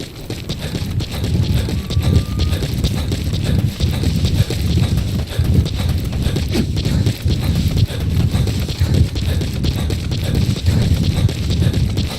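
Horse hooves clip-clopping at a steady galloping rhythm in Metal Gear Solid V, loud and close across a windy open-field backdrop, with no talking.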